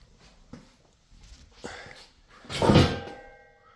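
A Lambo-style door kit on a go-kart is latched and swung open, heard as a few soft clicks and knocks building to a louder clunk and rattle of the door lifting up, close by.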